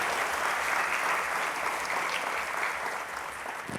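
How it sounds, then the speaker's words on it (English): An audience at a Teacher of the Year event gives educators a round of steady, even applause, a continuous wash of many hands clapping at moderate distance, fading slightly at the end. "Let's give them another round of applause"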